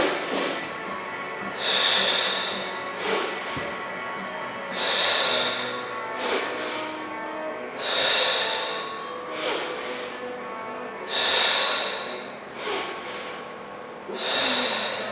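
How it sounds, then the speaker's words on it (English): Forceful breaths are pushed out in short rhythmic pulses during a chair stool spiraling exercise class, with about nine close, breathy bursts spaced evenly and no talking. "exhale"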